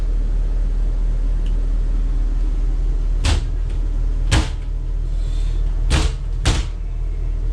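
Several sharp thuds and latch clunks of a 2005 Safari Cheetah Class A diesel motorhome door being shut, a few seconds apart, over a constant low engine-like rumble.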